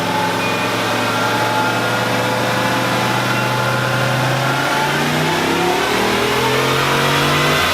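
A single-turbo Dodge Charger engine runs with a choppy, lumpy idle, a loud, uneven pulsing rumble that rises slightly in pitch partway through, heard close up with no talking.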